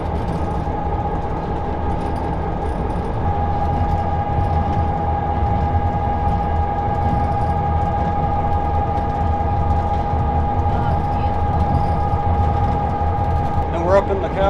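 A train rolls along a coastal railroad with a steady low rumble and continuous mechanical drone, heard from on board, while people talk over it.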